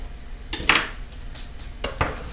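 Chopped onions and other ingredients are tipped into a cooking pan for shrimp gumbo. Metal clanks and scrapes against the pan come close by in a few sharp hits.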